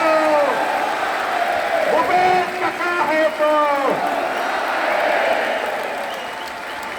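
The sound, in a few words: crowd applauding the Chief Minister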